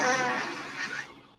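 A single fart from a compilation of nasty farts, a buzzy, sputtering blast that starts strong and trails off over about a second, heard alone without talk.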